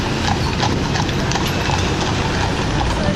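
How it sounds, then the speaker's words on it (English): Several horses walk along a city street in Melbourne, hooves clip-clopping in a steady, overlapping rhythm, close and loud over general street noise. "Oh, some horses."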